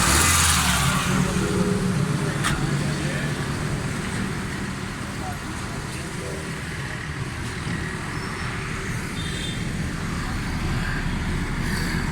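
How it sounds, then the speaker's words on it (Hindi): A Suzuki Alto 1000cc car with a pick-up and fuel fault, its engine running in a steady, continuous drone that holds at an even level throughout with no talk. "तो अभी गाड़ी स्टार्ट करके फिर मैं आपको साउंड भी चेक करवाता हूँ"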